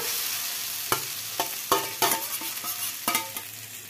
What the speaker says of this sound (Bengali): এবার ফুলকপি ভাজাটা দিয়ে দিলাম,